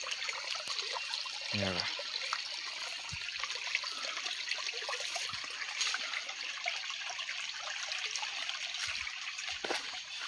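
Steady trickling and splashing of water flowing into grass, close and continuous, with a few brief clicks and knocks.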